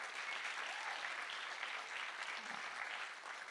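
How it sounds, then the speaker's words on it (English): An event audience applauds the panel Magnús and Tekla, a steady even wash of clapping filling the whole short stretch at moderate distance. "please give a great round of applause for our panel, Magnús and Tekla"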